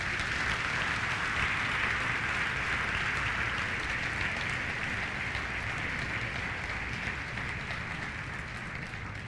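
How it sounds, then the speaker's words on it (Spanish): A church congregation applauds during a Spanish-language sermon, producing a dense, steady wash of many hands clapping at once, loud and sustained for several seconds with no talk over it, easing only slightly at the end. "Denle un aplauso para ayudar al que se durmió."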